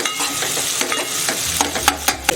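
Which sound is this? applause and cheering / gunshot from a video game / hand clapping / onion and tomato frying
onion and tomato frying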